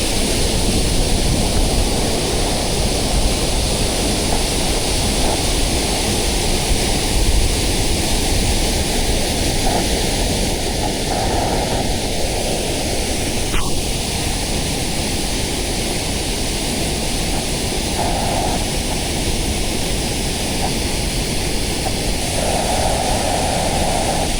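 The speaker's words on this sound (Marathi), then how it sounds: "अतिप्रचंड असा हा उक्षी रानपाट धबधबा, खूप सुंदर व्ह्यू आहे." A constant, heavy roar of rushing water, loud and unbroken for the whole stretch, from the Ukshi Ranpat waterfall in the monsoon rain close at hand.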